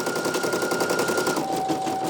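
Brother PE-900 embroidery machine stitching out a design on a 5 by 12 hoop, a steady dense mechanical whirr with a fast needle rhythm and a constant motor tone running throughout, close and fairly loud.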